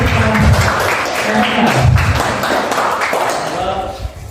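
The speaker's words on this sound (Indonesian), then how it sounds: "Ya, tepuk tangan terlebih dahulu." Applause from a classroom audience after a student group's dance presentation, a steady burst of clapping with voices talking over it throughout.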